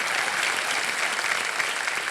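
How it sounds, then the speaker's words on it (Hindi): Dense, continuous audience applause fills a game-show studio, loud and even, welcoming a contestant's wife on Kaun Banega Crorepati season 15. "प्रणाम करता हूं आपको और ताली बज जाए इनके लिए।"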